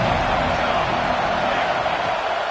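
Steady roar of a large football stadium crowd at a Kentucky versus Georgia game, a loud, dense and unbroken wash of noise throughout.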